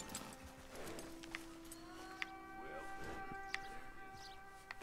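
Horse hooves clip-clop steadily in Red Dead Redemption 2 over a continuous outdoor ambience, with faint tonal game sounds and occasional sharp clicks layered above.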